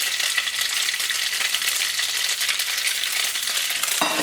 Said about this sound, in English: You wanna hear that beautiful sizzle.